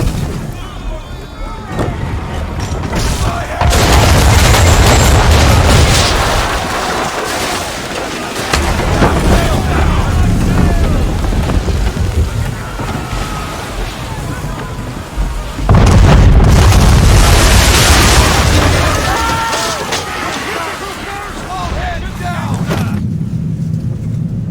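Ship cannons firing chain shots in a naval battle in Assassin's Creed III, loud deep booms in heavy rolling volleys that swell, fade and return, with churning water and wind beneath.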